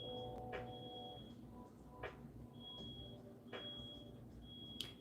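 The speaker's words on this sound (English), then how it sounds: "I literally thought that little beeping was my fire alarm" Small electronic beeps, the kind easily mistaken for a fire alarm, chirp several times at uneven intervals. They sound faint and thin over a low background hum.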